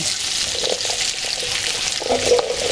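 Chunks of onion, potato, carrot and celery tipped into a pot of sizzling beef, a close, bright frying hiss with a few stirring clatters, brief and steady, no talking.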